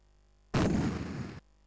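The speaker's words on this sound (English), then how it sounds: "There's lots of explosions going off." A single booming explosion from the Atari ST version of The Ninja Warriors, a short loud burst lasting under a second that cuts off abruptly into silence.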